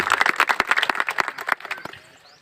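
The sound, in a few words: audience applause welcoming a guest at a ceremony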